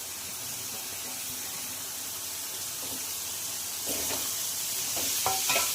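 Grated paneer stirred in a pan for paneer bhurji over medium heat, a continuous hissing sizzle that grows slightly louder near the end, with a few soft scraping strokes of the spoon and no voices.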